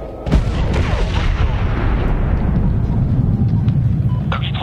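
A dropped bomb detonates in the Medal of Honor game with a sharp, loud blast followed by a long, heavy rumbling roll, mixed with distant gunfire and aircraft noise under radio chatter.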